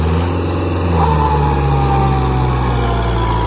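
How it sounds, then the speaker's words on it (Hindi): A Kubota MU4501 tractor pulling a back harrow runs with a steady, loud, low engine drone, its rumble holding evenly throughout with no speech. "पर भाई ट्रैक्टर ने हार नहीं मानी, ट्रैक्टर लेकर चल दिया है।"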